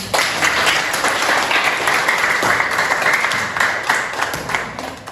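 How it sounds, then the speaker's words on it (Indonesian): Classroom applause after a school lesson closes, a steady, dense patter of many hands clapping together for about five seconds, fairly loud and close, with no talking over it. "Tepuk tangan buat kita semua."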